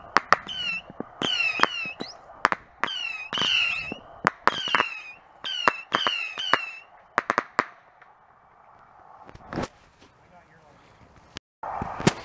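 A Fourth of July fireworks cake fires off a rapid series of sharp outdoor bangs, each shot with a rising whistle and crackle. The volleys come in irregular bursts, then thin out into a few scattered late pops.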